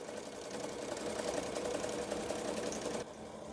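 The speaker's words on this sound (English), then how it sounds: "While that's stitching, we're gonna come over here" A sewing machine stitches a rhinestone shirt, giving a steady, fast mechanical whir with a fine rapid patter that runs loud and even for about three seconds, then cuts to quieter room tone.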